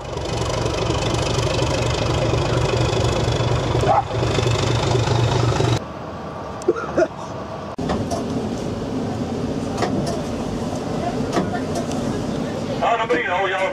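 An engine runs steadily with a low idling drone, loud for the first half and then quieter and more distant, with people talking over it.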